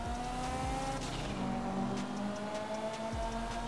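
Car engine in the GTA 5 video game, with a blow off valve: a steady droning engine note with rising and falling revs and occasional whooshing bursts, heard at moderate volume without talking.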